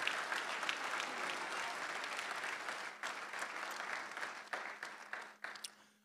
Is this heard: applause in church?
yes